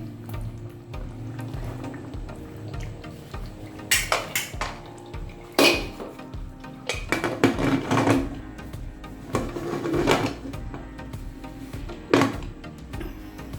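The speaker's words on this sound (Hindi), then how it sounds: "तो चलिए इसे दोबारा से हम ढक देंगे" A metal lid clanks onto a pot of chicken biryani with potatoes, several sharp clatters and rattles of cookware scattered over quiet kitchen background, close by and with no talking.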